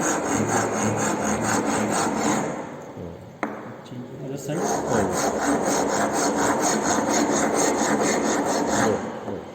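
Rasp filing a wooden tenon in a carpentry shop, a steady rough scraping of strokes running almost continuously, loud and close, with a brief sharp ping near the middle.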